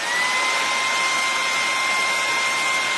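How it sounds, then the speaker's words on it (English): A hair dryer blows steadily to dry whitewash paint brushed onto golden pine wood, a constant close airy whir with a faint high motor whine running unbroken throughout. "And when you use a dryer, it's a lot quicker"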